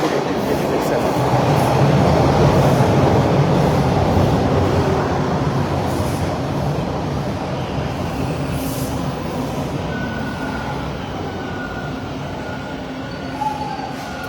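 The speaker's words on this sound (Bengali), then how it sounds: "এই যে ট্রেন আসতেছে আপনাদের" A train arriving at a station rumbles steadily past at close range, loud broadband roar of wheels on rails slowly easing off over the span, with faint squeals.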